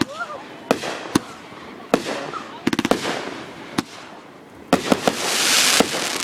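Grand finale of a fireworks show: sharp explosions crack and pop in irregular bursts, some in quick clusters, ending in a dense roaring crackle, loud and fairly close.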